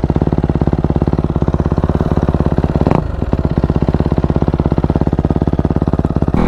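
Kawasaki KX250F dirt bike engine idling close up, a loud, rapid, steady mechanical thrum with a brief blip of throttle or clatter midway.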